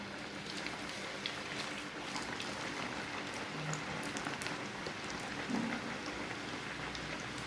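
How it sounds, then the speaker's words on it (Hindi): Potato samosas deep-fry in oil over a medium flame, giving a steady, dense sizzle and crackle throughout with small bubbling pops. "डीप फ्राई आपने इनको करना है। बहुत मीडियम सी आंच पे मैं इनको फ्राई कर रही हूँ।"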